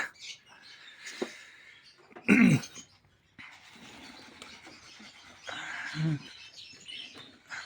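Pigeons kept in a rooftop loft make a few brief, quiet calls and low coos, separated by soft rustling and shuffling and near-silent gaps.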